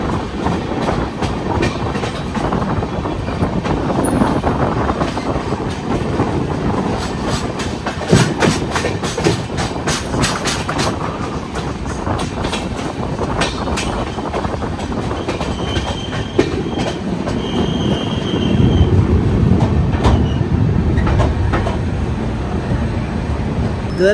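Tejas Rajdhani express, bound from Mumbai to Delhi, rushes past on the adjacent track near Agra, a loud, sustained roar of rolling carriages with rapid clickety-clack of wheels over rail joints and occasional faint metallic squeals.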